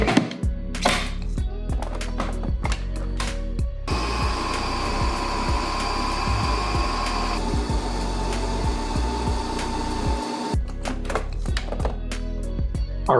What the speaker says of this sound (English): I think we're ready to go ahead and blend this up.